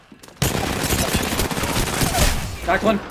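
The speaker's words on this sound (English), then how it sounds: "Enough, I'm getting shot at." Rapid automatic gunfire crackles in the Apex Legends shooter, starting abruptly and sustained as a dense, loud volley with a few sharper bursts near the end, while a player briefly speaks over it.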